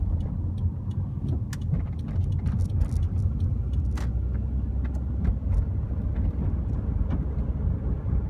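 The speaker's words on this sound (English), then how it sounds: "There does appear to be a little bit more traffic on North Shore this morning than is typical" Road traffic on North Shore on a morning of heavier than usual flow, a constant low rumble of passing vehicles with scattered faint clicks and knocks, no voices.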